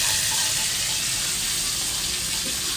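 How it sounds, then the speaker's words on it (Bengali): Chopped ginger and green chilli fry in hot oil in a home kitchen, giving a continuous bright sizzle that stays close and steady for a few seconds with no talking. "আদা কুচি আর লঙ্কা কুচিটা দিয়ে দিলাম, আর দিয়ে একটু ভাজা ভাজা করব।"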